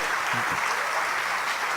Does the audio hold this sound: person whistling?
no